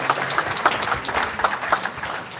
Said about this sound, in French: Beaucoup d'applaudissements pour Kambale Musavuli.